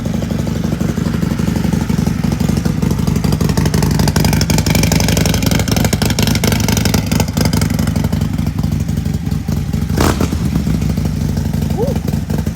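A custom Harley-Davidson Road Glide Limited bagger idles steadily after a cold start, with a loud continuous low engine rumble and someone talking over it.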